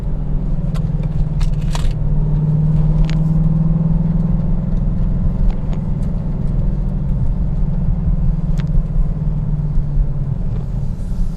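Hennessey HPE850 Dodge Challenger Hellcat V8 with exhaust dumps open rumbles loudly and close, a deep steady idle-to-cruise drone with a brief swell of revs, no voices.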